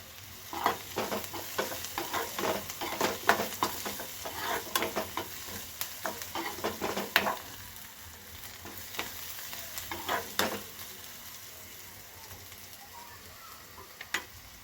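Chopped onions with a spoonful of turmeric fry in a pan on the stove, a soft sizzle with frequent stirring scrapes and taps that thin out toward the end, fairly quiet and without voices.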